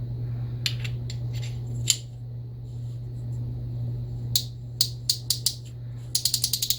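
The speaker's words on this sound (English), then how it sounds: "Drag clicker's working for as long as it'll last, being nylon." Nylon drag clicker on a late-1950s or early-1960s Compac Clipper No 36 spincast reel, ticking in sparse single clicks that turn into a quick rapid run at the end, close and quiet over a steady low hum.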